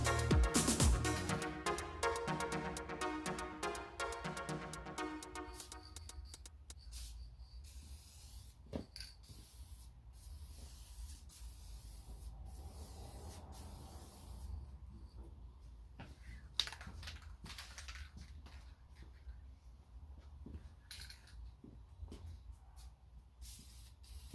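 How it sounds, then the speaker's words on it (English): Steady hissing of an aerosol can of VHT Nite Shades tint spray painting car tail lights up close, long continuous sprays broken by brief pauses and faint clicks. "I'm gonna start spraying it."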